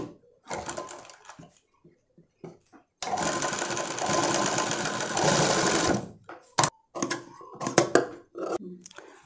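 A sewing machine stitches piping onto a patti blouse neck, running in a loud sustained burst of about three seconds between shorter start-stop bursts and faint handling noises.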